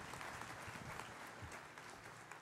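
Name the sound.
audience applause in church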